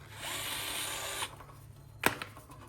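Power drill with a worn bit whirring briefly at low level, stopping after about a second, then a short sharp burst of bit grinding a little later, with no talk.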